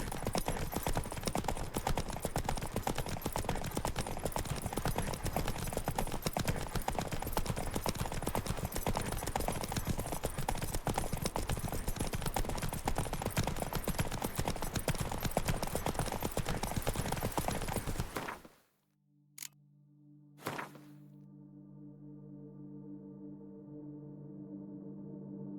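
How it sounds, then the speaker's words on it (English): Horse hooves clip-clop at a steady pace in The Witcher 3 video game, a dense continuous patter that stops abruptly, followed by a short snort and quieter ambience. "Whoa there, Roach."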